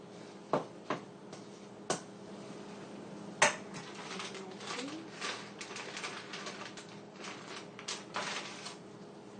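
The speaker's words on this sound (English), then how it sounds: "Stir it up." Spoon stirring a cheese, egg and ricotta filling in a bowl for stuffed bell peppers, with a few sharp clinks against the bowl early on, then a steady run of soft scraping and tapping.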